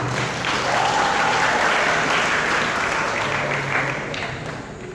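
An audience at a graduation ceremony applauds with a thick, sustained wash of clapping from many hands, loud and even before easing off slightly toward the end.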